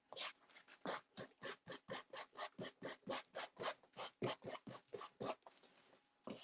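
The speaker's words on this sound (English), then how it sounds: "I can take my sanding block, kind of sand it a little bit." Steady back-and-forth rasping of a sanding block rubbed over wood, about twenty even strokes in quick rhythm, close and fairly quiet with no talking.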